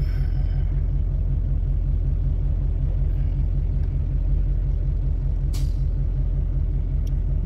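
A heavy truck rumbles past on a Texas road with a loud, steady low engine drone, close by, with a brief hiss of air brakes near the end and no talking.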